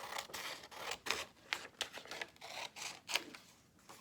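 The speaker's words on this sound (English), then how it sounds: "let me get my smaller little scissors here" Small scissors fussy-cut paper collage pieces at close range, snipping and clicking in a quick irregular series of sharp metallic cuts with faint paper rustling between.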